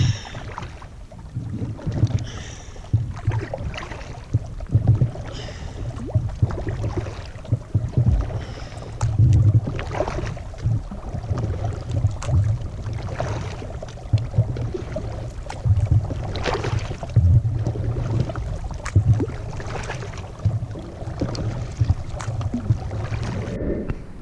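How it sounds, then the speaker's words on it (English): A kayak paddled across a calm reservoir lake, rhythmic soft paddle strokes and water swishes recurring every second or two, with light wind buffeting the microphone. "Really not too bad of a paddle across this lake, especially when it's like this"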